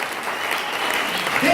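A short burst of audience applause at a church sermon rises under a room's reverberant wash and grows louder toward the end. The clapping is brief and moderately distant.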